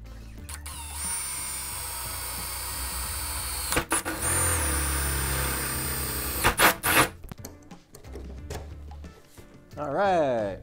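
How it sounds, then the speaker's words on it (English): A power drill boring holes into the body of an E39 BMW M5 while fitting a DIY wicker bill spoiler, running in sustained near bursts with short pauses between, and a person speaks briefly near the end. "No sense drilling three holes first."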